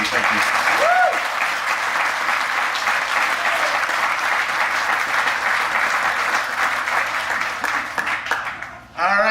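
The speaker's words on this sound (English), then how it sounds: "give him a big round of applause, please" A big round of applause from an audience welcoming a presenter named Tom Flack, sustained dense clapping with a brief rising whistle near the start, dropping away abruptly just before the end.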